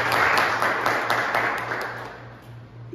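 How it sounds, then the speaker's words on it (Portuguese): Applause for a student singer in a Maranhão comedy film, a dense wash of many hands clapping steadily for about three seconds, fading slightly toward the end with a faint hum beneath. "Salve de palmas aqui para o Ivo, gente."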